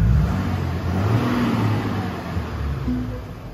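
A Mercedes G-Wagon's warm engine turns over and catches, settling into a loud, close, low idle rumble that swells briefly and then eases off slightly toward the end.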